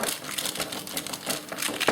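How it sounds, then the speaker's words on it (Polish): Baking paper or parchment crinkles and rustles continuously as a homemade Whopper-style hamburger patty is rolled up in it, with a sharper crackle near the end. "bierzemy na papier do pieczenia albo pergamin i no, rolujemy sobie w ten sposób hamburgera"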